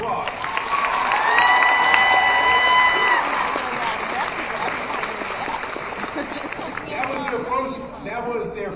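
Crowd applause for a drill team at a veterans assembly, a broad steady wash of clapping that peaks early, then thins slightly while voices and a whistle-like tone ride over it.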